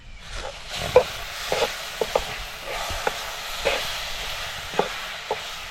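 Mango and coconut ladoo mixture stirred in a pan over low gas, the spoon scraping in uneven strokes with a soft steamy hiss beneath.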